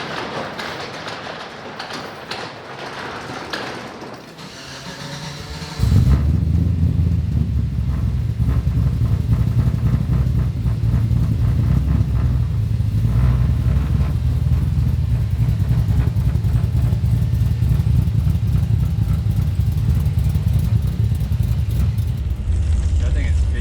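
Heard from inside a Chevy Nova on the move, the engine's low rumble swells and then holds as a loud, steady drone for the remainder, with no clear talking over it.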